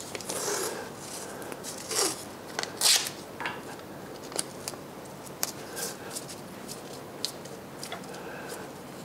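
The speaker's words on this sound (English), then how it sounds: "I'm going to put a piece of tape on it." Tape being pulled off a roll and pressed onto a hollow sphere mounted on a lathe, heard as a few close, sharp crackling rips and bursts with quieter rustles between them, no talking.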